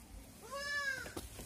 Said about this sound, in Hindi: बकरी पसंद आ रहा है। अरे खा जाएगी